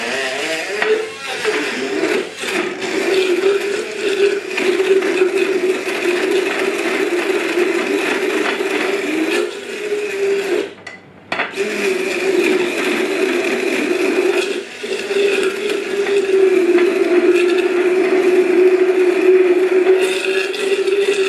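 A makeshift mixer standing in for a proper blender whirs steadily while blending a chocolate milkshake, a loud continuous motor drone that drops out briefly midway and then resumes.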